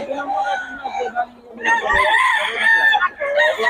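Gamefowl roosters at a market in Bocaue, one loud close crow rising and stretching out, mixed with other clucking birds, while people talk nearby.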